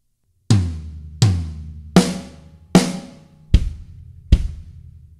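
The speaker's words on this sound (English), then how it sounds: "we're going to hit two on the rack tom and then two on the snare drum." Six separate acoustic drum strokes, evenly spaced: two on a rack tom, two on a snare drum, then two kick drum beats. Each one is loud and close with a ringing decay, played alone with no talking, as a beginner linear fill.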